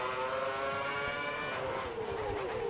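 A Formula 1 car engine screams at high revs in the F1 2010 racing game at Monza, a loud, sustained whine whose pitch climbs and then dips as the car pushes on.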